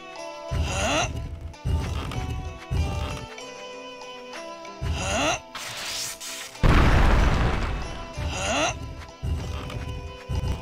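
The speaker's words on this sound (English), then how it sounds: "A barrel that we can explode for getting into there." A barrel blown up in the game Radiant Historia gives a loud broadband blast near the middle, surrounded by a repeating pattern of clip-clop and chime-like game sound effects.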